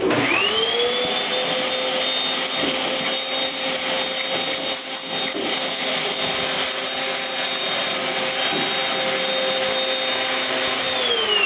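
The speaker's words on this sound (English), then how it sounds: "Now, in order to get the lock in there, I got to suck out the dirt." A vacuum cleaner sucks clean sawdust out of freshly bored door lock holes, a loud steady whining roar that spins up at the start and runs continuously, with faint rattles of debris.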